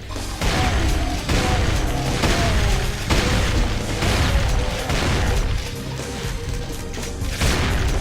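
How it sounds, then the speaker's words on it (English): Pump-action shotgun firing in Brutal Doom, a run of loud booming blasts roughly every second, each followed by a mechanical pump clack, with game noise between shots. "Next, we have the shotgun, and like in base Doom, it is the Hand of Ysmir!"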